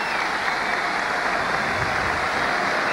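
Rugby league crowd at a 1985 Leeds versus Bradford match, cheering and applauding as a player is substituted: a dense, steady roar of clapping and cheers, loud and unbroken for a few seconds.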